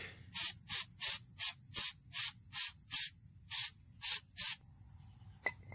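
An aerosol cleaner can hisses in ten short, evenly spaced bursts onto a car's mass air flow sensor, close and sharp, followed by a quiet pause.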